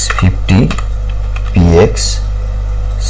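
Typing on a computer keyboard while writing web design code, a few quick clicking bursts and scattered keystrokes under a steady mains hum, with someone speaking between them.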